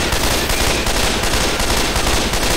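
Dense, continuous gunfire from a Left 4 Dead match as players shoot down a Witch, loud and sustained without pause across the whole moment.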